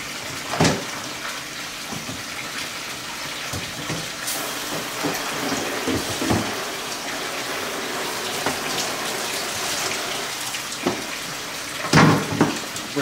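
Tap water runs steadily while a bird cage is rinsed during cleaning, a constant close gush broken by occasional splashes and clatters as the cage shifts under the stream.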